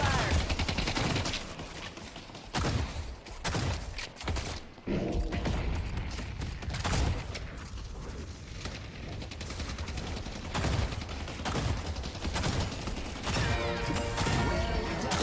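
Gunfire in the video game Deadlock, dense sustained bursts of shooting with mechanical clatter filling the whole stretch, loud and continuous with brief gaps.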